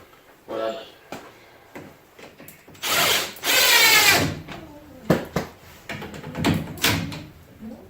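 A power drill drives S10 screws into an outdoor wooden playhouse in a few short, loud bursts, the longest lasting about a second, with someone talking between them.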